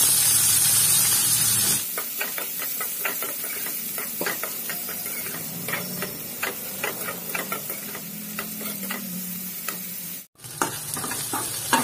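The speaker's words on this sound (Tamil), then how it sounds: "பொடியா நறுக்கின வெங்காயத்தை ஆட் பண்ணிட்டு நல்லா mix பண்ணிக்கோங்க" Finely chopped onions for a bitter gourd curry sizzle in a hot pan while a spoon scrapes and stirs them in irregular clinks, after a brief louder hiss at the start.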